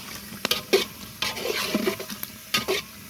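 Rice with biryani masala is stirred and fried in a metal cooking pot over a wood fire, with bursts of scraping and sizzling between short pauses and occasional clinks of the spoon.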